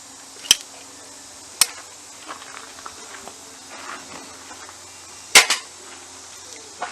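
A caulk gun applying caulk during a home repair task, with a few sharp loud clicks and snaps from the trigger spaced seconds apart over a quiet background.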